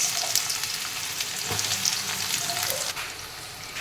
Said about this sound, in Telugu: ఆయిల్ వేడెక్కింది ఇందులో హోల్ గరం మసాలాస్ వేసుకోవాలి నెక్స్ట్ కొద్దిగా షాజీరా వేసుకోవాలి నెక్స్ట్ ఆనియన్స్